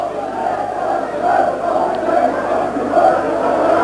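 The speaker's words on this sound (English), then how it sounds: "A bit of aggro in the crowd here on the terraces" A football crowd on the terraces at a 1985/86 Chesterfield versus Bolton Wanderers match gives off a steady, distant hubbub with swelling shouts, some aggro among the fans.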